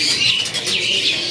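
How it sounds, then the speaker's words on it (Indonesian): A close white starling, a hand-reared young bird at a bird market, calls with shrill, wavering whistles and chirps, continuous and fairly loud, against a faint background. "Dan ini dia jalak putih yang lolohannya."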